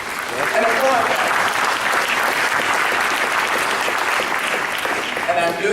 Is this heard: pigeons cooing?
no